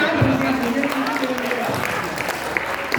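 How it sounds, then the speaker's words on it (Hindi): Audience applause at a poetry recital (kavi sammelan) at Bundelkhand University, Jhansi, sounding thin and modest, a steady patter of clapping from a crowd with a voice speaking over it. "तालियां कमजोर है तुम्हारी"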